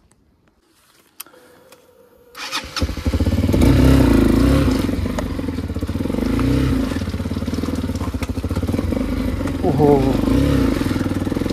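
A Treme Maxx 200i motorcycle revs hard after sinking in mud, its engine surging loud and close after a quiet start, rising and falling through repeated throttle bursts, with a brief exclamation from a person over the roar.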